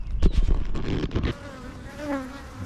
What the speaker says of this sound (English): Let's see how active these bees are.